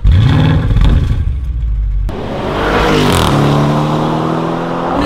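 Audi RS6 and Nissan Skyline on the road: a loud, close engine rumble that swells as one car revs and accelerates midway, then holds a steady, throaty drone.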